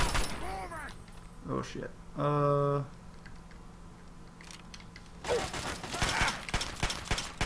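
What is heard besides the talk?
gunfire in the video game Fallout 3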